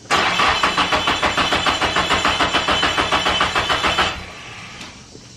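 A Nissan SR20DET engine that has been sitting cold cranks over in fast rhythmic pulses for about four seconds without catching, loud and close, then the starter cuts off into near silence.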